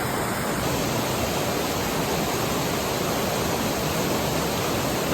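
A famous waterfall reached after an off-road drive, its roar a dense, steady, loud rush of falling water that fills the whole stretch without any let-up.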